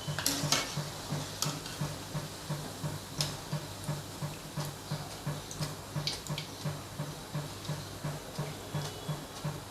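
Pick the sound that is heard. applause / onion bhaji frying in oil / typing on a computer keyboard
onion bhaji frying in oil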